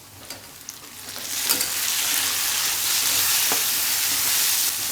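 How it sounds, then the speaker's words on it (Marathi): Onion and green chilli frying in a pan, a close steady sizzle that grows louder after the first second, with occasional stirring scrapes and no voices. "आता हे चांगलं फ्राय होऊ दे कांदा आणि हिरवी मिरची चांगली फ्राय झालेली आहे"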